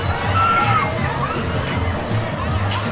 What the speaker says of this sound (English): Listen to those people screaming in terror.